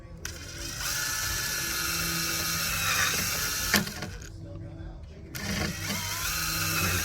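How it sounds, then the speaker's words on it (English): A power drill boring two small holes side by side during installation of an Amp Research retractable step on a 2011–2016 Ford Super Duty, steady whirring bursts with brief pauses, fairly close. "Drilling two little holes next to each other, big enough for a zip tie."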